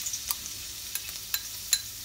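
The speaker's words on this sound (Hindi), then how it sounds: "मैंने इस वोक में 2 टेबल स्पून ऑयल डाला, 2 कौशल का गजा हो रही रोगान मंदाजी, 3 गार्लिक क्लोव्स डाल रही हूँ इसमें।" Garlic cloves frying in oil in a wok produce a soft, low sizzle with a few sharp spattering pops, close and quiet with no voices.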